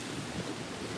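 Strong morning wind buffets an outdoor microphone, producing a continuous loud, low rumbling roar with no other sound audible.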